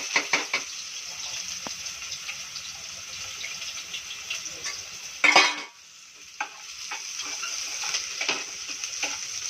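Chopped onion sizzles in hot oil, a steady crackling fry broken by stirring, with one brief louder burst before the sizzle settles back down.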